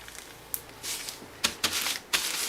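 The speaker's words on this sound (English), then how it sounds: "So we're just gonna put them into a plastic bag, one at a time. Because we need to crush the grain." Brewing grain crushed in a plastic bag with a rolling pin: scattered crinkling and crackling bursts, several sharp rustles at irregular intervals, close and fairly quiet.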